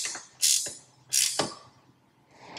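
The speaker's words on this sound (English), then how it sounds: "Now position the mirror how you'd like, and tighten the bolt." A bolt being tightened on a GMC mirror bar mount: two sharp ratcheting bursts, each a quick clicking sweep, close and clear, with a fainter third rasp at the end and no speech.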